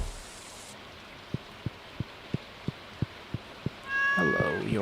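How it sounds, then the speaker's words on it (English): In the Stardew Valley video game, a black cat meows with a rising, tonal call near the end, preceded by a steady series of soft ticking taps over faint rain-like background hiss. "Hello there, you black cat, Leela."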